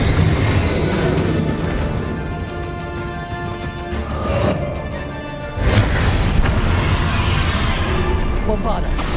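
A Confringo fire spell explodes in the Hogwarts Legacy video game, a heavy boom and rumbling burst over a dense, loud game soundscape, with a shouted voice nearby.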